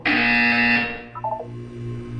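Buzzer in the Portal 2 video game during a wellness exercise: one loud, harsh sustained buzz lasting under a second, followed by a softer electronic tone trailing off, with no talk.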